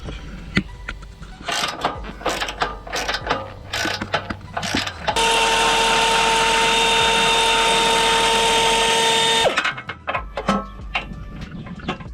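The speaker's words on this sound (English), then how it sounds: "Once I got those 8 bolts out, the bumper should just come off." Bolts are removed from the front bumper of a Jeep Wrangler Rubicon JL, with scattered clanks and clicks of tools followed by a loud, steady whir of a power tool running for several seconds, close by.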